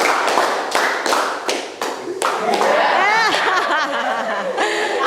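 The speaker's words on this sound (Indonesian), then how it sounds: "Tepuk 1, tepuk 2, tepuk 2, tepuk 3, tepuk 4, tepuk 2 kali." A class of students claps hands in a counted rhythmic pattern, sharp separate claps followed by a cluster, with laughter and chatter rising afterward.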